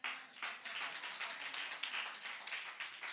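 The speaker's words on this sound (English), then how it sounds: "Come on, give a wonderful hand of applause" A church congregation claps and applauds steadily, a dense, continuous wash of hand claps close and loud throughout.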